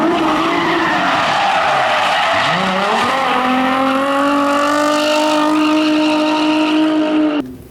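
A car drifts with tires skidding and squealing loudly and continuously, its engine droning underneath and the tire pitch sweeping down, then up, before cutting off near the end.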